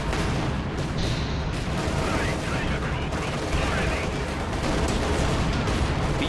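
A light artillery barrage in a World War II strategy video game, heard as a dense, continuous rumble of overlapping blasts and gunfire, steady and loud throughout, with a commentator talking over it.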